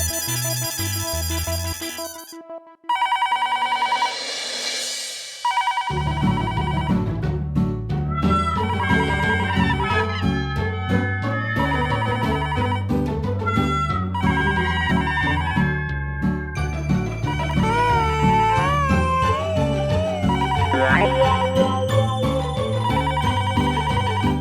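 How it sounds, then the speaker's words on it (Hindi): A landline telephone rings late at night in a household comedy scene, mixed into loud, continuous background music with shifting melodic tones that runs the whole stretch. "इतनी रात को कौन फोन कर रहा है?"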